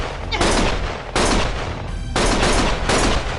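Loud, close bursts of gunshots during a cutscene in Lost Judgment. Three or four sustained volleys of rapid fire are separated by short pauses, with no talking over them.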